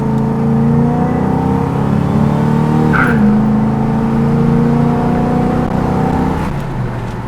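A 1974 Pontiac Trans Am with a 455 V8 and dual Flowmaster mufflers revs and pulls loudly, its steady exhaust note dipping briefly and then climbing again, with no talking.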